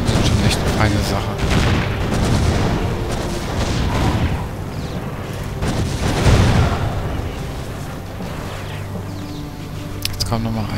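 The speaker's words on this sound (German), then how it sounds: "Kanonen sind schon echt eine feine Sache." Cannon turrets fire repeatedly in the video game Defense Grid: The Awakening, a dense, rumbling barrage of blasts and pops, loud throughout, while someone talks over it.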